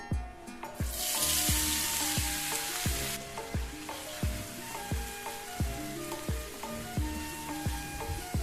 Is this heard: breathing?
no